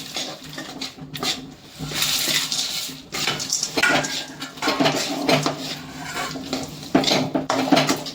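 A spoon scrapes and clatters against a pan while stirring chikki mixture over medium heat, with steady metallic knocks and scraping throughout, close and fairly loud, without talk.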